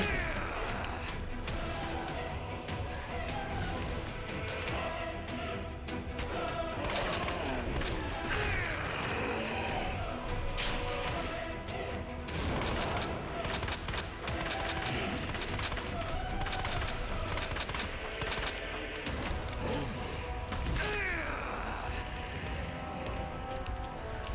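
Shotgun blasts ring out in Resident Evil 2, repeated loud bursts amid dense game action and crashing impacts that fill the whole stretch without letup.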